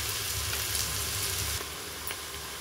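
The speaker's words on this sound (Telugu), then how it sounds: "బాగా వేయించుకోవాలండి" Sliced large onions frying for a mutton paya (goat leg) curry make a steady, loud sizzle in the pan, broken by a faint stir partway through.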